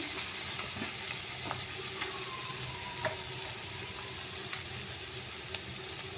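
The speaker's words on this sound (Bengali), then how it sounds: "এবারে এর মধ্যে আমি গরম জল দিয়ে দিচ্ছি" Hot water poured into a pan of sizzling vegetarian kofta curry made with paneer, potato and green banana, a steady close frying hiss with faint splashes and stirring, no talk.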